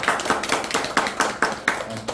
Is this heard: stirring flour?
no